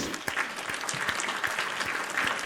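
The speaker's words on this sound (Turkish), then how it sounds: "Bir alkış alalım." A burst of continuous clapping applause sound effect from a group, steady and fairly loud throughout, in the Roblox game Blox Fruits.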